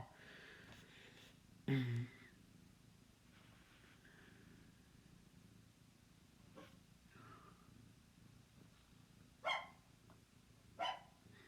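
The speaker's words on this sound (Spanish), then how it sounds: "ahora el perro se puso a ladrar" A dog barks a few times, faint and fairly distant, with separate single barks spread out over a quiet background hum.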